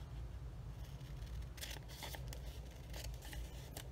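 Scissors snipping through paper to cut a journal pocket, a few quick crisp cuts in two short bursts, close and fairly quiet over steady background hiss.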